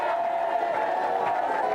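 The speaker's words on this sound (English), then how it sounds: "give them a big cheer while they go." A studio audience at the GamesMaster television game show cheers and whoops in a sustained, dense wall of crowd noise that holds steady throughout, fairly loud and close.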